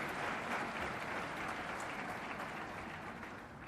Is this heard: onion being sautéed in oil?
no